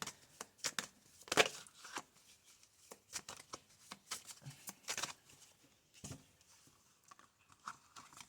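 Oracle card decks handled and shuffled at close range, with irregular soft slaps and riffling flicks in quick bursts and short pauses, moderately quiet with no voices.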